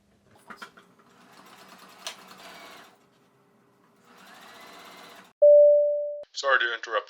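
A sewing machine stitches the pocket bag of patchwork pants made from old sweatpants, running in two steady whirring bursts with a pause between, followed by a brief tone and a voice speaking.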